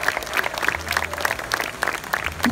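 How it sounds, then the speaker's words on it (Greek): An indoor audience at a chamber of commerce business awards ceremony held in a hotel claps steadily and densely, a continuous wash of many hands with no voices over it. "Παρακαλώ πάρα πολύ το χειροκρότημα και έξω από το ξενοδοχείο, μας φιλοξενεί σήμερα, να ακουστεί δυνατά."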